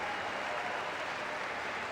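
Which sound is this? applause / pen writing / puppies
applause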